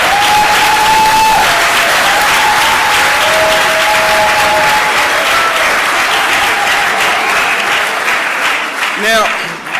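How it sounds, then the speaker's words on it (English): Loud, sustained crowd applause fills the hall at a convention, a thick steady roar of clapping with whoops and voices rising through it, tapering slightly near the end. "Everybody give yourself a clap."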